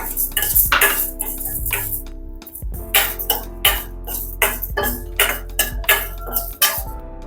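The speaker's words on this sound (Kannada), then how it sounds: "ಉದ್ದಿನಬೇಳೆ ಹಾಕ್ತಿದ್ದೀನಿ." Dry urad dal lentils clatter into a metal pan with repeated sharp clinks and rattles, a steady run of short bursts heard close and alone.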